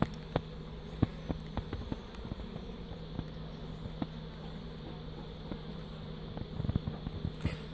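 Carnica honey bees buzzing at an open hive, a steady, close, droning hum with small ticks and taps of insects and frames throughout.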